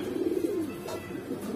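Flying pigeons of the Babra breed coo in a soft, steady low murmur, close and continuous with no talking over it.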